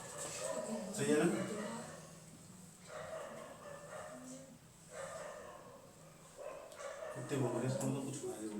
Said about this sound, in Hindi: कुत्ते बोल रहे हैं